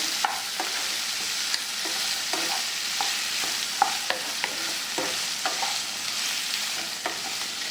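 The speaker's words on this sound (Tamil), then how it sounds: "கத்திரிக்காய் நல்லா வதங்கணும்" Brinjal pieces sautéing in hot oil for chutney, a steady broadband sizzle with repeated sharp scrapes and clicks of a spatula stirring against the pan, close and continuous with no talking.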